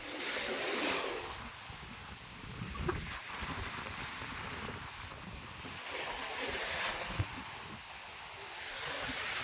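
Ocean waves roll onto a long beach in Romblon, Philippines, a continuous wash of surf with gusts of wind buffeting the microphone and a couple of sharp knocks along the way.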